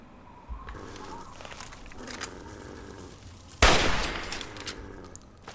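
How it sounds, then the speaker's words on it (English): A single sharp hunting rifle shot from Fallout 3 rings out amid quieter game ambience of faint footsteps and rustles, with the blast and its short decaying echo standing out clearly. "Hunting rifle."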